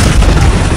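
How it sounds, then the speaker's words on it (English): Fireworks set off for fun on the Fourth of July give a loud, continuous rumbling boom that fills the whole moment, heavy and close with no pause. "Shoot fireworks for no reason."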